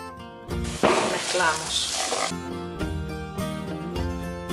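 Chopped onion hits hot olive oil in a saucepan, setting off a loud, dense sizzle that swells for about a second and a half, then fades back under steady background music.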